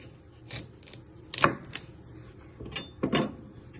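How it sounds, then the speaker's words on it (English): Knife trimming the ends off parsnips on a cutting board, a few sharp, separated chops and scrapes with short pauses between them, close and fairly quiet in a still kitchen. "Next step, we're going to prep our parsnips. You're first going to trim your ends."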